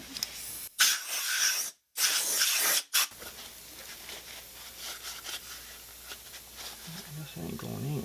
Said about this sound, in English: Use a brass brush. You don't want to scratch it.